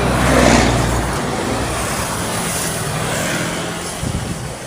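Cars and trucks roll past on the Maharlika Highway, a loud continuous roadway rumble with a swelling pass-by near the start and steady engine and tyre noise throughout, no voices.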